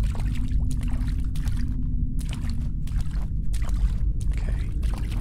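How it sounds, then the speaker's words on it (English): Wading through mucky water in the video game Fear The Spotlight, repeated sloshing and splashing steps over a low murky rumble, close and fairly loud, with no talk. "And of course, we're wading in mucky water."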